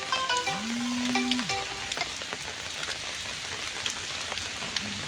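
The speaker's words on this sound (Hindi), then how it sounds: "लेकिन आज बारिश का दौर सोलन में चला हुआ है" Heavy rain pours down in Solan as a dense, steady hiss, with a brief rising and falling tonal whine near the start and no voices.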